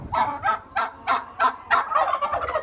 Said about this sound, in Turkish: burada da kırmızı hindilerimiz var